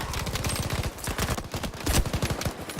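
MG42 machine gun firing in the World War II shooter Battlefield V, a continuous very fast rattling stream of shots, loud and close, with a few heavier impacts mixed in.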